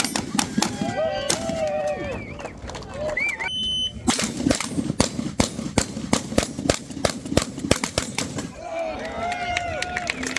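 Rapid .50 caliber rifle shots crack out repeatedly, sharp and loud, some overlapping as two shooters fire together, with people talking in the background.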